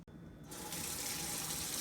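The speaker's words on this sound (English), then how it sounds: "Just rinse them off under cold water, and I peel the skins off." Cold tap water running to rinse pickled herring, a steady hissing stream that starts abruptly and continues alone, close and fairly strong.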